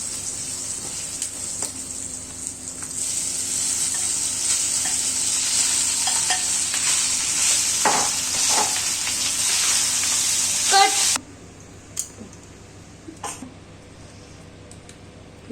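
Rice is stirred into a frying asafoetida tempering, giving a loud, steady sizzle with repeated spoon scrapes and clinks. The frying cuts out abruptly near the end, leaving a few faint knocks.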